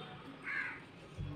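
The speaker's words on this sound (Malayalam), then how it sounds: "കാക്കകളുടെ ശബ്ദം, കുയിലിന്റെ പാട്ടും" A crow gives a single brief caw, fairly faint and at a moderate distance, with a soft low thump just after.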